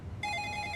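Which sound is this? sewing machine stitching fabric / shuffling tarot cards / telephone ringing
telephone ringing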